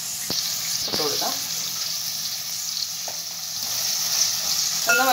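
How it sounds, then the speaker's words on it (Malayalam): Onion and coconut pieces fry in a pan with a continuous bright sizzle, a few stirring clicks and scrapes cutting through near the start and end, heard close up. "സവാളയും തേങ്ങാക്കൊത്തും കൂടെ കിടന്നെന്ന് ഒന്ന് വയറ്റിയെടുക്കാം"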